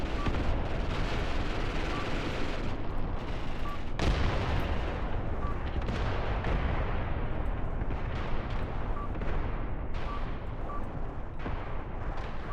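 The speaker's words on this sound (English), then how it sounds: "That was a big 15-centimeter shell that just landed right there." In the WWII tactics game Graviteam Tactics, a 15-centimeter artillery shell lands with a heavy, sharp boom that rises out of a constant low battlefield rumble. Distant gunfire fills the background throughout.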